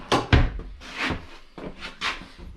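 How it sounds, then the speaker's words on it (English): A bathroom drawer on full-extension ball-bearing guides in a Quailridge 39AKFFL park model slides and closes, producing a series of soft rolling whooshes and wooden thunks at close range. "you've got your full extension ball bearing drawer guides in the bathroom"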